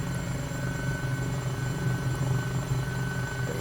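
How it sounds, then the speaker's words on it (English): Eurocopter EC-135 helicopter in Microsoft Flight Simulator 2020 droning steadily overhead, a loud continuous rotor and turbine buzz with deep low rumble throughout. "this Eurocopter buzzing over their homes"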